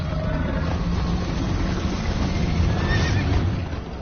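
Horse whinnying and hoofbeats during a chase scene in Minecraft Story Mode, a continuous loud rush of hooves and motion noise with a neigh, no talking.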